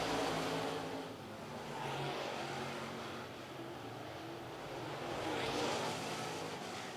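Limited late model race cars at Lancaster Motor Speedway, a continuous loud engine roar that swells and fades as the cars circle the track, with no voices over it.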